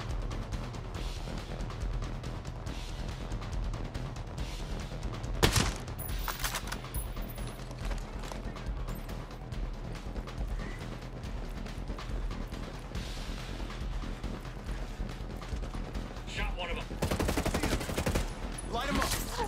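Boss gunner firing in Ghost Recon Breakpoint, with continuous rattling automatic gunfire and mechanical clatter throughout, a few sharper shots standing out and faint voices in the mix.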